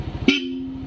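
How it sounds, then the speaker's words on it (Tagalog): A single short horn toot from a Yamaha NMAX scooter's loud horn rings out over a steady engine idle, a brief bright honk that fades quickly. "ito naman yung kanyang loud horn"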